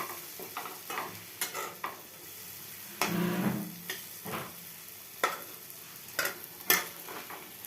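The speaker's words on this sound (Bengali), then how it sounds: "ভাজাটা খুব সুন্দরভাবে করতে হবে" Frying and stirring in a pan: a steady low sizzle broken by sharp intermittent scrapes and knocks of a spoon against the pan, close and moderately loud, with no talking.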